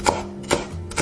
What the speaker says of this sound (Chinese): 葱排切小段